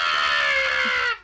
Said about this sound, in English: Oh, another scream of him.